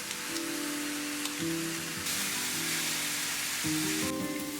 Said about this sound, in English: The cabbage cooks slowly until it's tender and lightly caramelized.